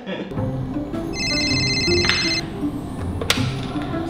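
A telephone rings with a short electronic trill in the middle, heard close in a room over background noise and some voices.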